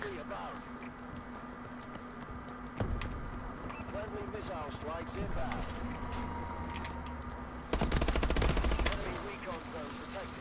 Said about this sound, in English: I'm getting shot from every fucking direction